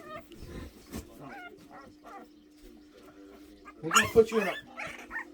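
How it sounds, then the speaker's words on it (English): A Boston terrier puppy cries in short high whines near the end of the clip, with someone talking to it over a steady background hum. "No, you stop that crying."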